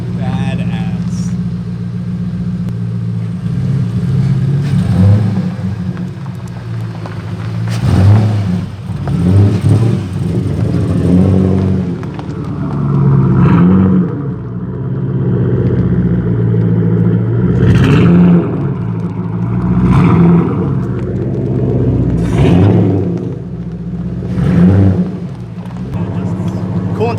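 A turbocharged Ford Mustang engine running steadily at its first start, a close, droning hum with swells of revving, while people talk over it.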